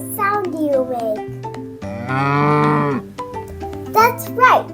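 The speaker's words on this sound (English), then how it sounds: "That's right, moo." A cow moos in a French farm setting. Voices speak before and after it, and then one long, loud, clear moo sounds on its own.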